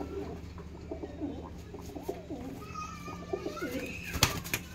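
Punjabi pigeons coo repeatedly in soft, throaty bursts close by, over a steady low background hum.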